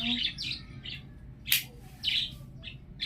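Pet lovebirds give quick, bright chirps and tweets close by, about seven short calls in a rapid irregular sequence with one sharper squawk near the middle, and no voice.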